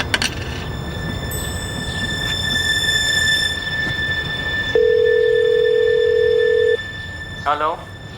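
A telephone rings indoors, a sustained electronic tone holding for about two seconds amid background hum and faint other sounds, followed by a brief squeaky burst.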